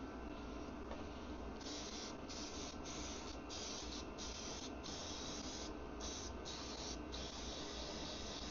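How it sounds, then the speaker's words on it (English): Cleaner sprays onto a Triumph motorcycle chain in a steady, quiet hiss with short bursts and brief pauses. "I was going to spray some on here as well."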